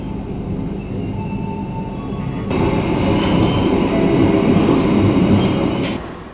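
Argo Wilis passenger train at Kroya station in Indonesia, a loud steady rumble of rolling wagons that grows heavier midway and runs throughout, with faint squeals above it and no voices.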